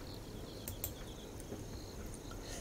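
Bell crickets (suzumushi) chirp indoors on an autumn night, short ringing trills repeating in a loose rhythm over a hiss of background noise, with a couple of sharp clicks and no voices.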